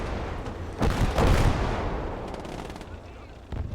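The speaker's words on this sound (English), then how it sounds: "We get a nice shot with the Stern Panzer." A Sturmpanzer tank gun fires once with a big booming blast that rolls off slowly, in a WWII Eastern Front multiplayer battle game, with faint battlefield noise continuing around it.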